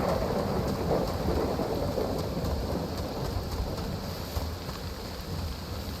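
Steady heavy rain pours down with a deep, continuous rumble of thunder beneath it, loud and unbroken, in the video game DayZ.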